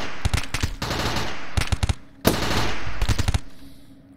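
Turret guns in the RimWorld video game fire on attacking raiders in rapid automatic bursts, loud and close, with several clusters of shots separated by brief pauses and no talking.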